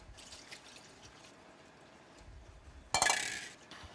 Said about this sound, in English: What I have to do with that now is just strain that off.